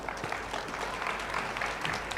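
An audience at a public talk by Savjibhai Dholakiya bursts into hearty applause, a dense, even patter of many clapping hands that carries through two seconds at moderate volume.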